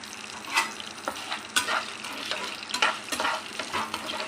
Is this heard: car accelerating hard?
no